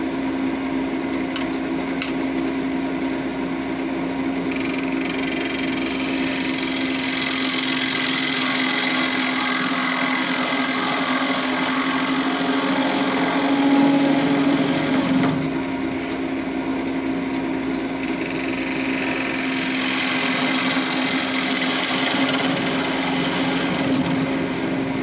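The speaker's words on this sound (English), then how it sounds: "So let's flatten this out and start gouging the inside." Wood lathe running steadily while a gouge hollows out the inside of the wood stock, a continuous whirring hum with rough scraping cut noise, fairly close and steady throughout with no talk.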